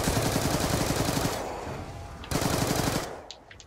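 Black Ops 2 Zombies gameplay on the Origins map: loud automatic machine gun fire rattles in two sustained rapid bursts separated by a short gap, close and dominant with no talking.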